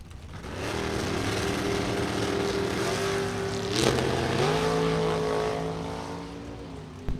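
Dragster and door car launching side by side at a Super Pro bracket drag race, engines droning loudly and steadily, pitch climbing and shifting partway through as they pull away down the strip.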